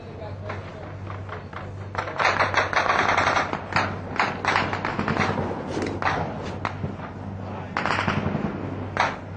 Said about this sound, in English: there's fire coming from Bravo 1 into the Hotel 1 complex